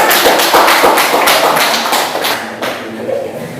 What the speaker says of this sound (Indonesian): Kasih aplaus itu aja.